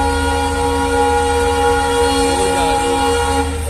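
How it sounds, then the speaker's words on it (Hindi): A tanker freight train rushes past at full speed near Anand Vihar railway station, a steady loud rumble with sustained tonal horn-like drones throughout and no talking. "गाइस ये देखिए पीछे से ट्रेन आ रही है फुल स्पीड में"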